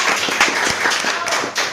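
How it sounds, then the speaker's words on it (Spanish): A strong round of clapping and applause welcomes a guest, a Bolivian legislator, on a podcast, steady and close throughout the short burst with no voices over it. "Un fuerte aplauso para Sebastián."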